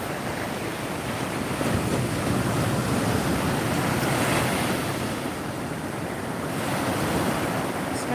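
Ocean surf rolls onto a Florida beach in a steady, loud wash, with gusty wind buffeting the microphone throughout and no voices.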